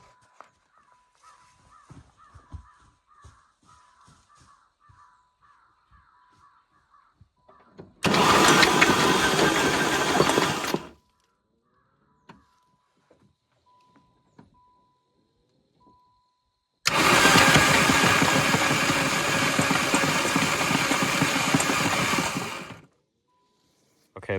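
A Dodge Caravan engine being cranked over in two loud, close bursts of several seconds each, separated by quiet with faint clicks and a light tapping, with speech early on.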